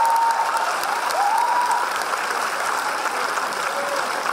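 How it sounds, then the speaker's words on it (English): Thick, steady applause from a church program audience honoring the instrumentalists, sustained clapping at an even level throughout, with a couple of faint whistle-like tones gliding through early on. "Give them a great clap of appreciation."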